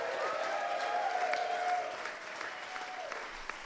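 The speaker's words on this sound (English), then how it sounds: "we'd just like to say a massive round of applause" A comedy podcast audience at a festival claps steadily for several seconds, the applause fading slightly toward the end, with a faint tone sustained underneath.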